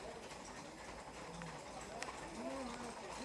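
Horse hooves clip-clop on the street during a horseback parade, the first cavalgada of Virginópolis. The hoofbeats are faint and scattered beneath loud crowd noise, and people talk nearby.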